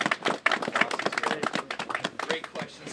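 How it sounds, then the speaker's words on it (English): A crowd applauds a student trustee at a BSU gathering, a dense stretch of clapping that lasts the whole moment, with voices talking underneath. "Let's give him a round of applause."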